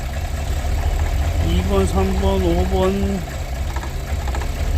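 A Cadillac Escalade engine with a misfire idles steadily up close, its low drone running under someone speaking throughout.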